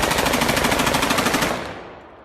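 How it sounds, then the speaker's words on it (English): The Corsair, an experimental three-barrel SMG in the video game Highguard, fires a rapid, loud, evenly spaced stream of shots for about a second and a half, then rings off into a fading tail. "The Corsair is an experimental 3-barrel SMG that looks very familiar to the Russian PPSH-41, and it fires in bursts"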